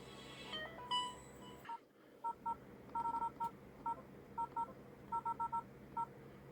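An old HTC phone's keypad sounds a series of short electronic tones as zeros are typed in, with crisp beeps coming singly and in quick clusters at a moderate level, and no talking.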